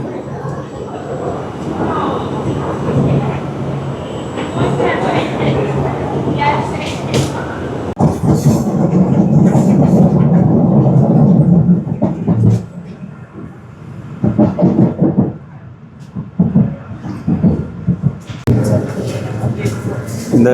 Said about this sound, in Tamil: வா ஒரு மாதிரி ட்ரெயின் வருது